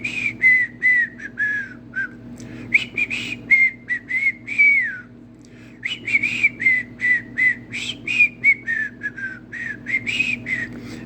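A person whistles a bouncy tune alone, with short clipped notes and slurred phrases in quick rhythmic bursts and a brief pause midway, close and clear over a faint steady hum.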